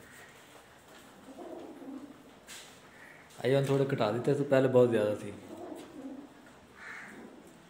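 Pigeons cooing inside a room set aside for keeping pigeons, a burst of repeated throaty coos in the middle that is louder than the softer calls around it, with a person talking quietly before and after.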